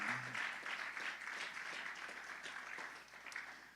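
Church congregation applauding at a Spanish-language service, a steady wash of clapping that runs the full length at moderate level.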